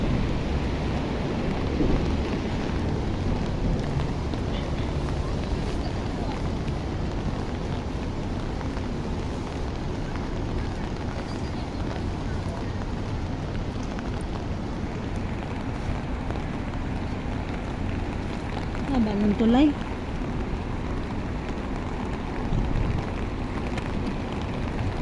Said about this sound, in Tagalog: Lumalakas lalo yung ulan, guys.